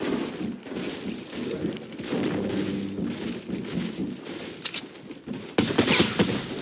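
Rapid automatic gunfire in a Fortnite Battle Royale match, dense and continuous bursts of shots with a louder volley near the end, close and without talk.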